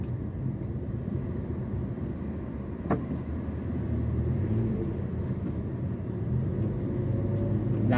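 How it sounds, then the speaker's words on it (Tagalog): Road traffic in a jam in the Philippines, cars moving bumper to bumper, makes a low, steady engine rumble with a faint passing whoosh, heard from inside a vehicle. "Napaka-traffic oh."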